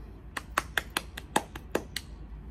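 Hand claps at an online children's storytime, about ten sharp, fairly close claps in an uneven rhythm, standing alone without talk.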